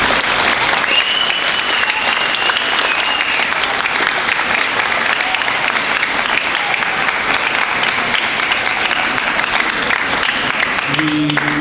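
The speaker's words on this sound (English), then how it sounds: "one final applause for all the recipients this morning" Steady, sustained applause from a large school assembly crowd honoring award recipients at a junior high year-end awards ceremony, dense clapping filling the room at full volume throughout with no break.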